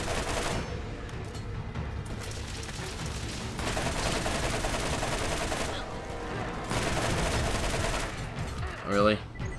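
Continuous gunfire in Borderlands, loud bursts and rattling shots packed together at close range, with a short gap midway and a brief voice-like sound near the end.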